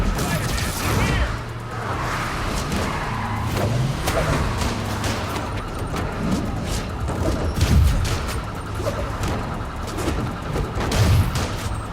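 Gunfire aimed at an enemy clinging to a vehicle in Spider-Man Miles Morales, with rapid bursts of shots and crashes over engine rumble and chaotic action while voices shout.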